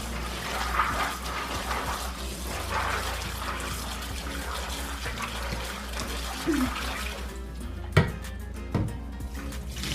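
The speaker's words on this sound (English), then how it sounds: "I am although going to give them a quick rinse before I add the new water." Running water pours steadily and splashes close by for several seconds as beans are rinsed, with a few light knocks near the end.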